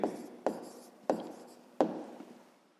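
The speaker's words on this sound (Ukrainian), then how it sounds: "записуємо 11 тисяч 200" Pen strokes writing on paper while a number is jotted down as the answer to a sixth-grade math exercise: four short scratchy bursts, each starting sharply and trailing off, close and quiet with no talking.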